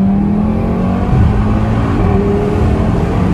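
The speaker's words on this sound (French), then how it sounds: "la reprise après avoir passé le rapport là" An Audi RS3 ABT engine revs hard and climbs in pitch as it accelerates, a brief dip marking a gear change before it pulls again, loud and close.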